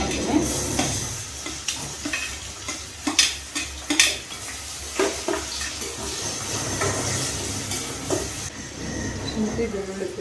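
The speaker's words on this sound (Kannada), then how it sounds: "ಹಸಿಮೆಣ್ಸಿನ್ಕಾಯಿ ಹಾಕ್ಕೊಂಡೇನು ಚೆನ್ನಾಗಿ ಫ್ರೈ ಮಾಡ್ಕೊಳ್ಳೋಣ" Green chillies fry in a pan as a utensil stirs and scrapes against the metal, making clattering knocks over a steady, close sizzle, with no talking.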